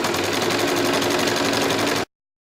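An embroidery machine stitches a luggage handle wrap held in the hoop, its needle running in a steady, rapid, even rhythm at close range with no pauses for about two seconds, then cutting off abruptly into silence.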